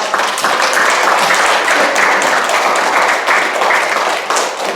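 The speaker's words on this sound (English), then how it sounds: "Let's give a round of applause." Camp audience giving a loud, sustained round of applause, many hands clapping briskly and evenly up close throughout before fading slightly at the end.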